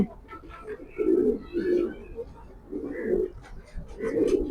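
Racing pigeon, a Marshal-line bird, cooing in repeated low throaty bursts at close range, with someone talking quietly in between.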